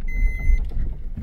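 A Maruti Suzuki Ignis with a steering fault turns, heard from inside the car as a low, rumbling engine and road drone, with a thin electronic tone briefly sounding over the first half-second.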